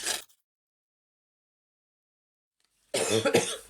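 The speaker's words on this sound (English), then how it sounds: "You will have to excuse the coughing." Two short bursts of asthmatic coughing, one at the start and a harsher, louder fit near the end, separated by silence.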